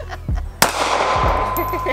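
Two sharp 9mm shots from a Ruger LC9s striker pistol, the second loud and close with a ringing decay under steady outdoor background noise, followed by faint distant bird-like calls.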